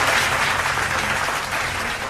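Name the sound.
audience applause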